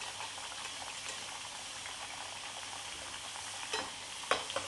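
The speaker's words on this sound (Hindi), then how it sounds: "आलू को बस हल्का सा फ्राई करना है" Potato pieces frying lightly in hot oil for a spiced aloo dish, a soft steady sizzle close by with faint stirring clinks near the end, no speech.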